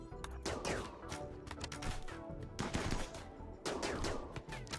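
Gunfire in the Rimworld video game, rapid bursts of sharp shots in quick clusters with short pauses between volleys, fairly quiet overall.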